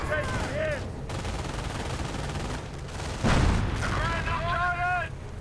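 Light machine gun bursts rattle in a real-time strategy battle against Rangers, rapid gunfire mixed with battle noise and a heavier thump, while a voice speaks over the fighting.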